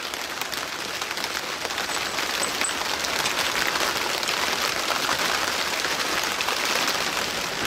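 Steady, dense hiss of rain falling on a surface, constant and moderately loud with no pauses.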